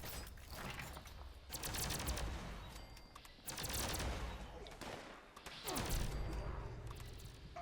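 Automatic plasma lance with a new automatic barrel mod firing in Fallout 76 at Westech, bursts of rapid crackling shots that rise and fall in several waves, loud and dense, with scattered impacts and game ambience in between.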